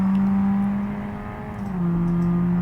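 ETK S-series car in a driving game mod drones with a steady, loud simulated engine and exhaust tone that dips slightly in pitch partway through, with no talk over it.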